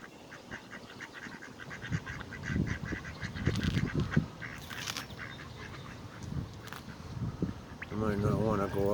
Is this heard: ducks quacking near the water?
yes